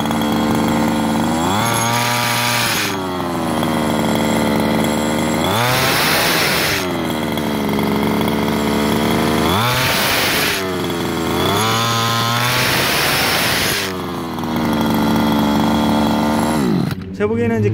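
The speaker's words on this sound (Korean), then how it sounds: "아주 시동을 잘 걸려요." A gasoline-powered RC car engine runs loudly close by after starting, its buzzing two-stroke note swelling and dropping in repeated revving bursts throughout, with no speech over it.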